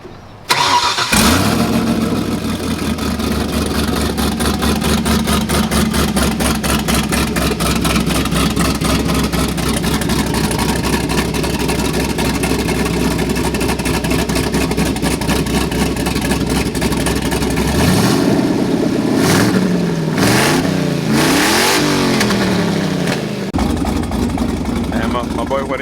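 A turbocharged car engine cranks and catches, then holds a loud, close, rough idle for a long stretch. Near the end it revs up and down a few times, and voices are faintly heard beneath it.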